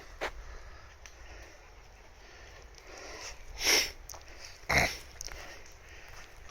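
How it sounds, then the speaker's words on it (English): A dog sniffs along the ground in a bluebell woodland, a couple of sharp close snuffling bursts between quiet stretches of outdoor ambience. "There's the doggy, alright."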